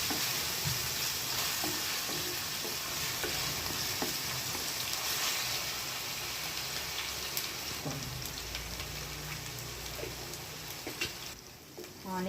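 Ginger paste and onions fry in hot oil for a veg dum aloo biryani, a continuous close crackling sizzle like light rain with occasional faint stirring clinks.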